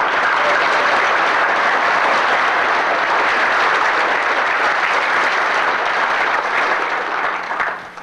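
Sustained audience applause fills a hall at an air war symposium on escape and evasion, loud and dense for the full eight seconds before easing slightly at the end, with no voices over it.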